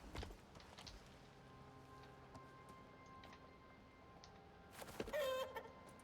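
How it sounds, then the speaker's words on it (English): In the survival video game Icarus, a chicken clucks after laying an egg, giving a short burst of faint, distant clucks near the end over a quiet ambient background. "That sounds like the chicken laid an egg."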